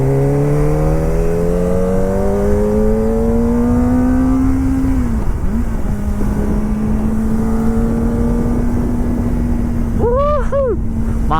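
A Kawasaki ZX-25R motorcycle rides fast along a Japanese street, its high-revving engine loud and close as it climbs steadily through a long run, dips briefly for a shift, then drones on, with a short burst of revs near the end.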